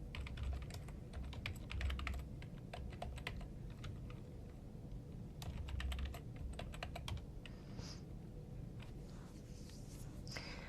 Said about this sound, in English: After you type the address in your browser, simply sign in with your lab services credentials.